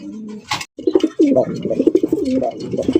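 Pigeons at a breeding farm giving soft throaty coos in a quick rolling series, close by, after a brief sharp knock at the start.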